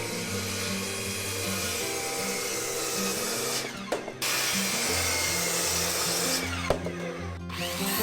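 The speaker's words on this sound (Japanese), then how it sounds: "勾配の部分だけを切っていきます" A power tool cuts hinoki cypress boards for a wooden deck in a carpentry workshop, a steady loud whining drone that briefly cuts out twice, with no voices.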